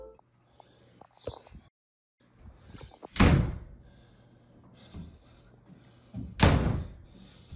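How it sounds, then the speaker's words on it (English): A house door swings open and shut by itself, slamming hard twice a few seconds apart. Each slam is loud and close, with faint knocks and creaks in between. "he then saw a door aggressively swinging open and shut by itself"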